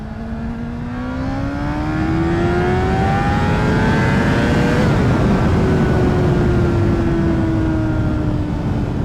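A Honda CBR600RR PC40 600cc supersport motorcycle engine revs up, its pitch climbing steadily to a peak and then easing back as it pulls away, loud and continuous with no talking.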